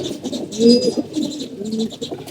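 Pigeons coo close by in a few soft, throaty, rolling phrases with short gaps between them, with no talking.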